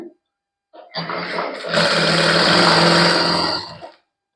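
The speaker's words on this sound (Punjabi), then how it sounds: "ਇਹਦੇ ਹੁਣ ਆਪਾਂ ਪੱਲੇ ਲੇੜ ਲੈਣੇ ਆ ਜੀ ਬਰੀਕ ਬਰੀਕ ਸਲਾਈ ਲਾ ਕੇ ਇਸ ਤਰ੍ਹਾਂ" An electric sewing machine stitches fine seams along the edge of a dupatta, starting with a short burst then running at a steady fast whir for about three seconds before stopping, loud and close.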